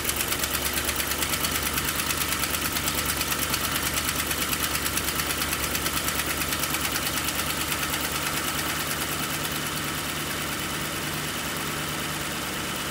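A Ford Explorer's 4.6L engine runs on test with a steady, dense mechanical drone and a rapid ticking texture, loud and close and unchanging throughout, with no voices.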